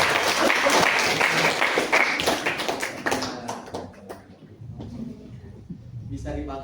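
Classroom applause from students, a few seconds of clustered claps and taps that thin out into talking and shuffling noise.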